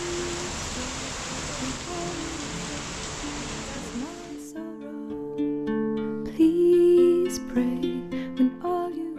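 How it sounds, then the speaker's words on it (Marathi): Steady, dense hiss of rain fills the first few seconds, then stops abruptly and voices with tonal sounds take over. "पाऊस यायला चालू झालाय"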